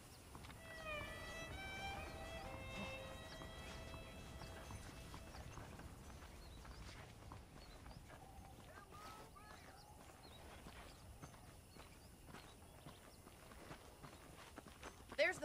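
Horse hooves clip-clop at a steady walking pace in the Red Dead Redemption video game, faint and continuous beneath a voice that talks over part of the ride, with brief melodic tones early on.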